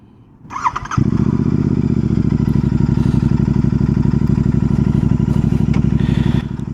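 A Royal Enfield GT 650 motorcycle starts up: a brief starter whir and clatter, then the engine catches and settles into a loud, steady, close throbbing idle with a pulsing exhaust that runs to the end.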